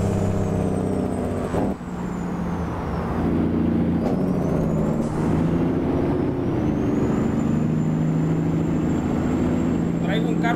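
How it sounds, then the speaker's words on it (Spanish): A big truck engine brake roars loud and steady in American Truck Simulator, droning on under rising and falling engine tones, with a brief hiss and a short dip near the start. "Me encanta cómo se activa ese freno motor, chico."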